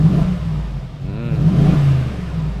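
Mercedes-AMG G63 20th Anniversary Edition V8 revving with its exhaust valves open, a loud, deep rumble that dips briefly and then builds again, close by.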